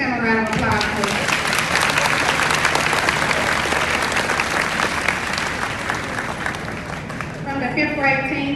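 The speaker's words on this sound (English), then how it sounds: "Let's give them a round of applause, please." Dense, loud applause from an audience at an elementary school fifth-grade graduation ceremony fills the whole stretch, with voices rising briefly at the start and again near the end.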